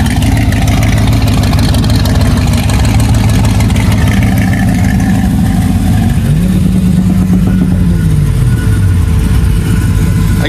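A classic Chevrolet RS idles at a cars-and-coffee meet, its choppy cam giving a loud, lumpy, rumbling idle that runs continuously close by, with a faint wavering hum drifting in midway.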